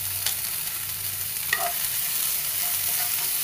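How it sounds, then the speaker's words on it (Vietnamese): Oyster mushrooms being stir-fried in a pan after shiitake, producing a steady low sizzle and faint stirring scrapes throughout, with a couple of brief clinks, no voices. "Nấm bào ngư mình cũng xào chừng 1 đến 2 phút cho nấm săn lại"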